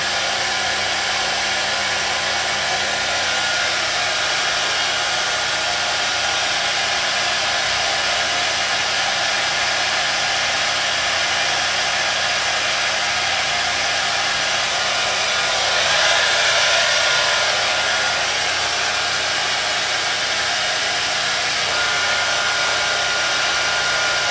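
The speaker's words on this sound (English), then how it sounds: "I'm starting to create the shape of the hair as I'm drying it." A hair dryer blow-drying and shaping a hair system runs loud and steady up close for the whole stretch, with a slight shift in tone partway through as it moves.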